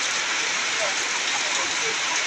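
Heavy downpour in Kushtia, a dense steady hiss of rain pouring down without pause, loud and close throughout.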